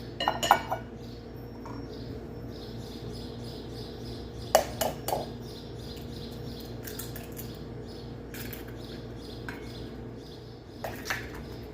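Eggs and orange juice being mixed in a bowl for a chocolate cake batter, with intermittent clinks of a utensil against the bowl over a steady low background hum, brief louder knocks scattered between quieter stretches.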